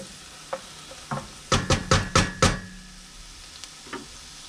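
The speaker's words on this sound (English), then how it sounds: "So we're sauteing our onions and garlic." Onions and garlic sauté in a pan for risotto under a soft sizzle. A few light taps come first, then a quick run of five loud scraping stirs, then a couple more faint knocks.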